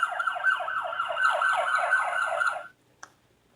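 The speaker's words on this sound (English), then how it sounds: "These police cars are on their way to an emergency. The loud siren warns other drivers to move aside" Police cars race toward an emergency with a loud siren rapidly sweeping up and down in repeated wails for about two and a half seconds, then cutting off, followed by a single short click.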